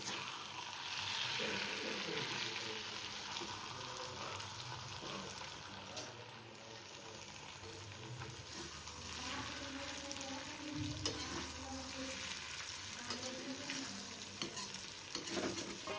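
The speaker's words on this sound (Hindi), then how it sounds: "हमने सब्जी छौंक दी है" Chopped ivy gourd (kundru) sizzles steadily as it is tempered in a pan, with occasional stirring clinks and scrapes over a continuous crackling hiss.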